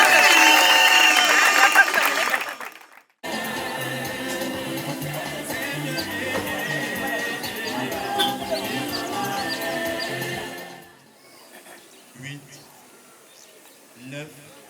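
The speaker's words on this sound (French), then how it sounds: "Applaudissez, messieurs et mesdames." Guests clapping at a Gabonese customary wedding, a dense sustained burst of applause that runs for several seconds with voices mixed in, then fades to scattered quieter sounds.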